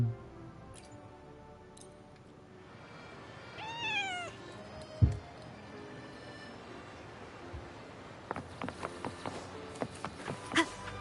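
A cat meows several times at close range in a quiet indoor space, rising cries repeated around the middle, followed by light clinking and tapping as food is set out.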